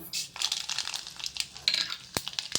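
Mustard seeds and urad dal sizzle in hot coconut oil, a close, steady hiss broken by frequent sharp pops and crackles.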